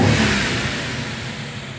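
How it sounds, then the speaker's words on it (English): Twin-turbo N63 V8 in a 2011 BMW 550 with a no-boost fault, snapped hard from idle: a loud, close engine roar that peaks at once and then slowly falls away. "at idle, you want to do a hard throttle snap."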